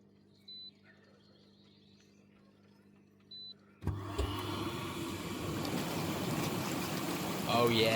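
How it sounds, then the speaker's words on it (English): A Lay-Z-Spa Helsinki hot tub's bubble jets start up after a quiet hum, then a steady loud rushing of air and churning water that grows slightly stronger toward the end. "Let's see if the bubbles will work."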